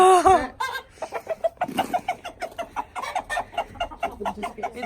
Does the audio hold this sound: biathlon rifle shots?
no